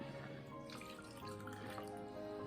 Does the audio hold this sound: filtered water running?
yes